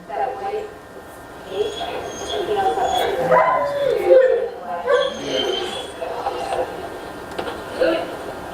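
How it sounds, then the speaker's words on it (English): A dog whines and yips in high, wavering bursts, with stressed whimpering cries running through the whole stretch at moderate loudness. "Stress vocalizations can be varied, whining."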